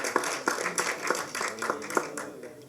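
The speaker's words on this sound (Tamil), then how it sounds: "அதுக்காக ஒரு தடவை கைதட்டு" Applause from an audience at a film launch press meet, a few seconds of scattered, moderately loud hand clapping with irregular individual claps standing out over a steady patter.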